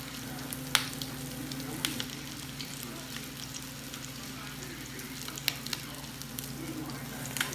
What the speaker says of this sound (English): We're going to let this fry, like I said, for 5 minutes per side or until golden brown